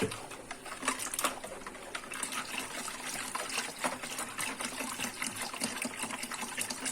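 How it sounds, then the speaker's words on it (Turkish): Water poured and stirred into dissolving sugar for homemade lemonade, a steady liquid swirl with light clinks and splashes running throughout at moderate closeness, no talking. "Karıştıra karıştıra suyumu ekliyorum."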